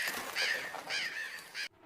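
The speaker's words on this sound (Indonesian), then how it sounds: "Beruntungnya itu hanyalah seekor burung gagak yang membuat Jennifer merasa lega." A crow caws three or four times in quick succession, harsh and fairly clear rather than distant, then cuts off abruptly into silence.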